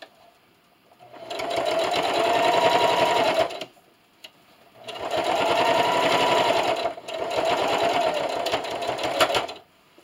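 A sewing machine stitches a fleece scarf in three long runs of rapid, even needle clatter separated by short pauses, loud and close, with no talk.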